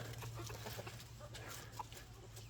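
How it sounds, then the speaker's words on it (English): Seven chickens, six of them hens, clucking close by, scattered short clucks over a steady low hum, with no talking. "a total of 7 chickens in there, Sue"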